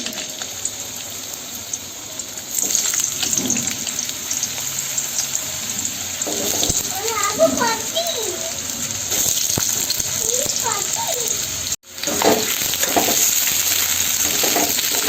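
Potato pieces sizzle steadily in hot oil for a sajne data and chana dal dish, a broad continuous hiss with brief clatters around the middle and a short dropout near the end; no one speaks.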